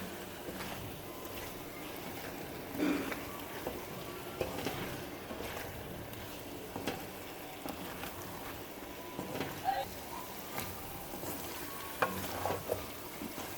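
Spices frying for bhindi gosht, a steady soft sizzle with frequent scraping stirs and occasional clinks of a spoon against the pan, close by and moderately quiet throughout.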